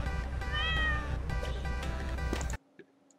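An animated cartoon cat from a college animation project gives a loud, drawn-out meow that fills most of the clip, then cuts off abruptly into near silence.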